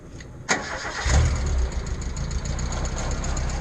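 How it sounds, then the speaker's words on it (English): A Mayco C30HD grout pump engine starts with a sharp click, then a low engine rumble builds and settles into a steady, close idle. "So you're just going to turn the machine on."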